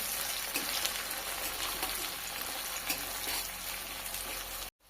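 Chopped tomato frying in a pan for chicken curry, a steady close sizzle with crackling pops that continues for several seconds before stopping suddenly.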